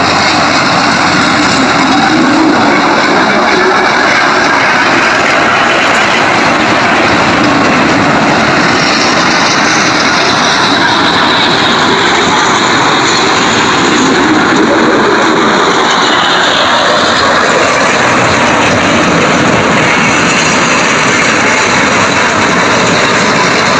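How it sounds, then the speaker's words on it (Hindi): A fairground ride train at Saien Haider Shah's village fair in Sindh, Pakistan, runs with a loud, continuous engine drone that holds steady and close throughout, with no voices. "और यहाँ पर ट्रेन अभी स्टार्ट हो चुका है"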